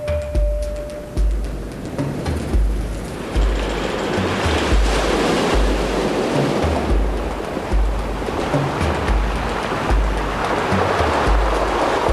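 Ocean waves surge and break continuously on the rocky coast at Selatangar on the Reykjanes peninsula in Iceland, a loud, steady wash of surf with rolling swells and some wind, no voices.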